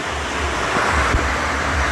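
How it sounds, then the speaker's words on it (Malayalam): A waterfall near Marayoor in the Munnar hills gives a steady, loud, close roar of rushing water with a low rumble and no break, with no voices. "ഈ വെള്ളച്ചാട്ടത്തെ കാണാൻ നമ്മൾ വന്നത്."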